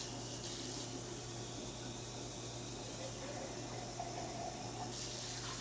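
Tap water runs steadily into a sink while empty tomato sauce jars are rinsed out, a continuous close splashing flow with no talk.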